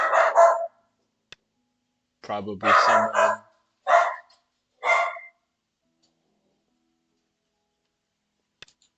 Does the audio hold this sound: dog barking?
yes